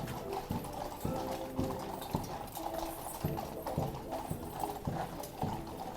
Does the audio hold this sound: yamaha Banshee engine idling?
no